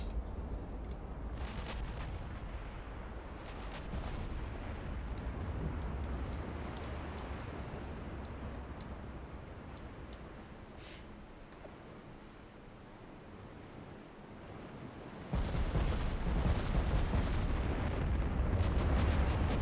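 Yamato's 18-inch battleship main guns fire in a naval game, a heavy rumbling barrage of booms rolling on and fading, then a second loud, sustained burst of broadband roar near the end.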